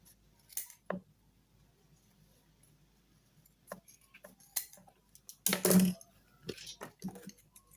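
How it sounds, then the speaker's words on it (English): Scissors trimming excess fabric from a sewn beret, a few sparse close snips and metallic clicks spread over quiet pauses, with one louder burst of handling. "now that is sewn, trim off the excess"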